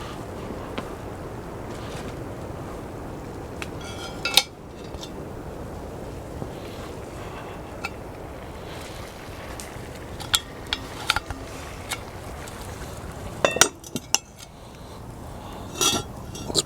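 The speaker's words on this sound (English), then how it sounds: "So we're going to turn this, put a lid on it." A metal lid set onto a jambalaya pot over a campfire with coals, a few sharp clinks and clanks standing out above a low steady crackle and hiss of the fire, close by and without talk.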